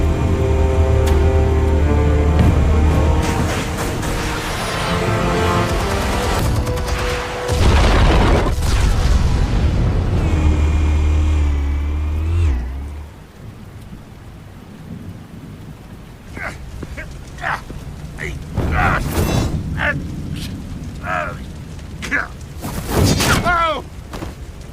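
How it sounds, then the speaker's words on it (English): Explosives detonating in Batman: The Telltale Series, heavy rumbling booms filling the first half and cutting off sharply, followed by scattered impacts and debris clatter, with voices talking through the scene. "Explosives armed. Fire when ready."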